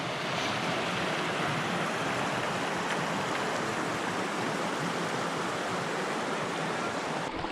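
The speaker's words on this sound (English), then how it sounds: "Our last water crossing of the loop." Stream water rushes steadily at a hiking trail water crossing on the Eagle Rock Loop in Arkansas's Ouachita National Forest, a continuous broadband wash, loud and close, with no voices.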